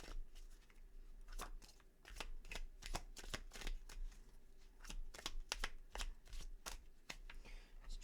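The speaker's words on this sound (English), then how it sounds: "Just chucking out tons of cards again for you." Tarot cards riffled and shuffled in quick, crisp bursts, with sharp slaps as cards are thrown out onto a surface, repeating irregularly across the stretch at close range and without talk.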